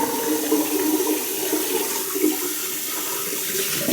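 Cold tap water runs steadily from a faucet, a continuous, even rush of splashing water at close range with no talking.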